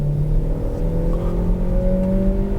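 A Hyundai Bayon's naturally aspirated 1.4-litre engine on 95 petrol revs hard and climbs steadily in pitch as it accelerates at full throttle in drive, loud and close, with no talking.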